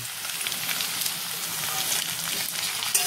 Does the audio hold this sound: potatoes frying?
yes